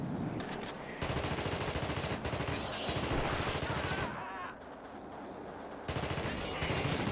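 Rapid video game gunfire rattles on in long, dense bursts that briefly ease and then resume, with faint voices mixed in.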